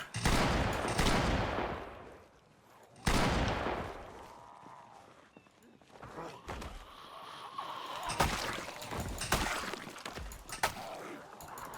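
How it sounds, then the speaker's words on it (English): Several loud shotgun blasts in the zombie survival game Project Zomboid, a burst of close heavy shots at the start and again around three seconds, followed by further scattered shots and game noise. "I'm bringing out the shotgun."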